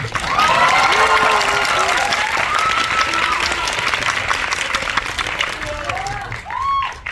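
Sustained audience applause at a film screening talk event, loud dense clapping with a few whoops from the crowd, tapering near the end as a voice begins.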